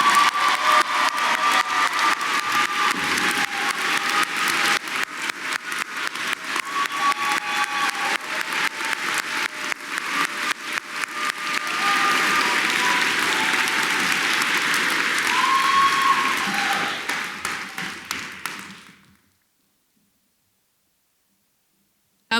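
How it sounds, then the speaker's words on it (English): A large awards convocation audience applauds graduating students in sustained, dense clapping for about nineteen seconds, steady and loud, before it cuts off abruptly into silence. "Please give all of these students a big round of applause."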